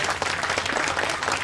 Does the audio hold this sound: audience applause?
yes